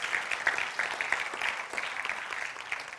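A church congregation applauds with steady, fairly soft clapping from many hands that continues evenly throughout, with no voices over it.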